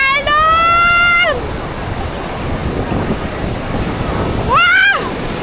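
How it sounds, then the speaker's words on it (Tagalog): Waves breaking on the beach at Magra Beach Resort, a steady broad wash of surf and wind noise throughout, with excited shouting voices at the start and end. "Ayun na ang alon!"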